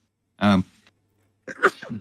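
A single loud sneeze close to the microphone during a podcast, followed about a second later by a short burst of nearby speech.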